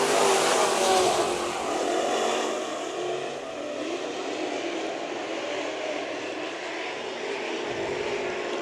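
Pack of IMCA modified race cars roaring away at a green-flag start on a Bakersfield dirt speedway, loud, dense engine noise from several cars at once, swelling at the start and then easing into a steady drone as the field moves off.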